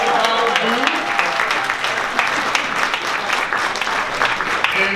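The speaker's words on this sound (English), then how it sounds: "how about we give them all a nice round of applause?" Audience applause for the panelists at an equity in music panel, a sustained round of clapping from a crowd with some voices mixed in.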